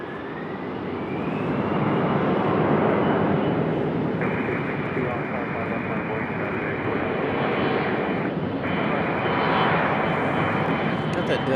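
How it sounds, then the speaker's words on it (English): A Delta Embraer E-175 regional jet departs Raleigh-Durham airport with a steady, broad engine roar that swells and holds, heard from a distance with a sustained whine layered on top and a voice talking over it. "That Delta E-175 departing"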